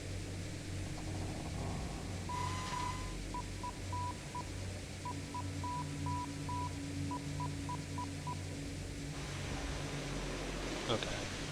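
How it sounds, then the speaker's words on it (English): Morse code beeps in the video game Conarium form a steady, clear series of short tones in quick groups over a constant low hum, with brief quiet gaps between groups. "Morse code goes too quickly for me."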